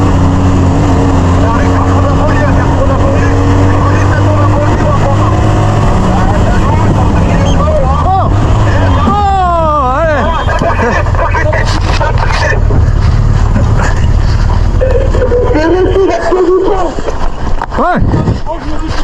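A car fleeing a police pursuit roars along in continuous loud road and engine noise with sirens, then collides with a bus in a sharp crash near the end, under steady talking.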